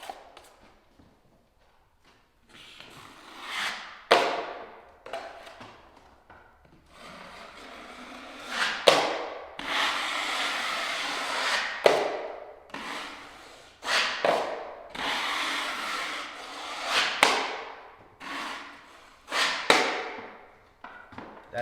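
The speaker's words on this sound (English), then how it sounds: "we're going to take a bigger knife and we're going to put a second coat on" A wide drywall knife spreads a second coat of joint compound over a drywall patch, giving repeated scraping, rubbing strokes in uneven bursts, close and fairly loud, with quiet pauses between passes.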